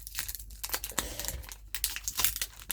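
A My Little Pony trading card pack wrapper being torn open, close crinkling and crackling of foil plastic in irregular bursts, with sharp tearing snaps scattered throughout.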